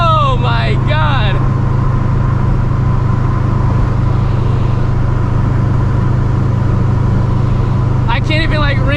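A supercharged 600hp New Edge Mustang GT drones loudly and steadily from inside the cabin as it pulls hard, with someone talking briefly at the start and again at the end.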